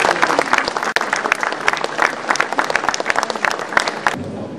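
An audience at an evening honours ceremony at an autumn art salon breaks into dense, sustained applause, many hands clapping close and loud until it cuts off abruptly near the end.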